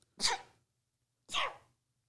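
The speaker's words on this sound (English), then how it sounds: "I'm about to sneeze." Two sneezes about a second apart, close and fairly loud, each a sharp burst that trails off, with silence between.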